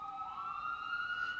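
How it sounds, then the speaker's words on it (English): Emergency vehicle sirens wailing outside, a distant rising electronic tone sustained throughout, fairly faint with no talk. "with all the sirens going on all around us"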